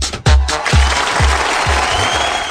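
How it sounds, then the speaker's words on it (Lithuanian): A small group claps in a Lithuanian ZIP FM radio studio, loud and close, with heavy rhythmic thumps about twice a second over a brighter spatter of hands. "Plojimai dar kartelį."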